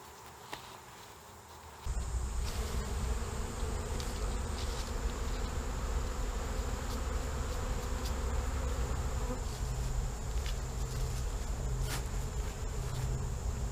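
Steady, dense buzzing of honey bees close by, continuous and fairly loud after a quieter opening couple of seconds, with no talking.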